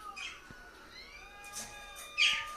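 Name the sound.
pet parrots chirping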